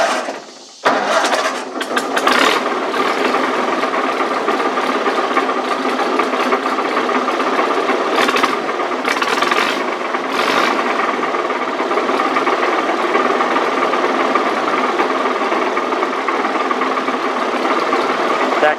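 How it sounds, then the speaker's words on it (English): A Massey Harris 30 tractor engine cranks, catches and then runs loud and close with a steady rough idle, a grumbling throw-out bearing mixed into the even mechanical rumble. "That grumbling you're hearing is a throw-out bearing"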